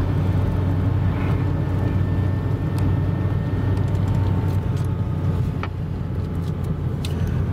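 A small classic car drives along a road on the way to a classic car show in Bridgwater, its engine and road noise forming a steady, loud drone throughout with no talking.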